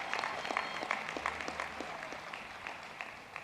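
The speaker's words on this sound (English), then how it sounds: "Let's give our graduating senior another round of applause here." A commencement audience claps for a graduating senior, scattered individual claps standing out over a softer, thinning applause that fades slightly toward the end.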